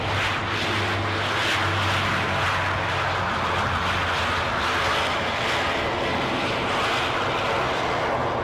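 At Aberdeen airport, a plane's aircraft engine roars loud and steady at close range, a continuous broadband rumble with no voices over it.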